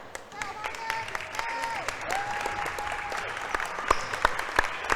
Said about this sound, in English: And here we come, our welcoming cheer from the cheerleaders.